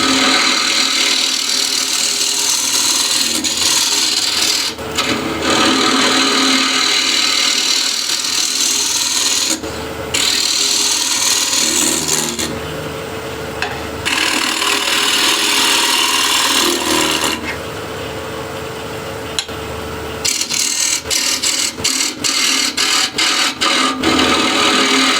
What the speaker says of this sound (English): I'll use shear scraper just to get this slightly concave